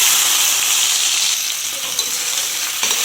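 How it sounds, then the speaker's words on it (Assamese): Okra sizzles loudly in hot oil in a wok, a dense, steady frying hiss close up with faint stirring bumps near the end. "এয়া মই কেৰাহীত তেল দি দিলোঁ, এতিয়া তেলখিনি গৰম হৈছে আৰু ভেন্দিখিনিও দি লওঁ ইয়াতে"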